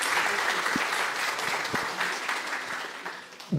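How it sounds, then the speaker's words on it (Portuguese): An audience claps for a professor, a quantum optics researcher, introduced at the start of a lecture, with dense, steady applause that fades slightly toward the end and a few faint voices underneath. "Uma salva de palmas."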